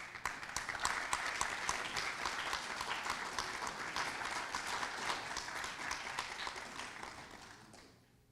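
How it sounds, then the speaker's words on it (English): A crowd at a wartime service medal ceremony applauds steadily, with distinct individual claps audible through the dense clapping, which holds even for most of the span before fading out at the end. "Let's give him a round of applause."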